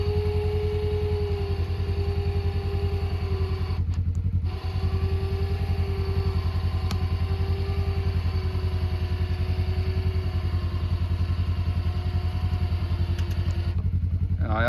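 A Harbor Freight Badland ZXR 2500 lb electric winch pulls under load, its motor giving a loud, steady droning whine close by, briefly dipping once before continuing unbroken, with no voices.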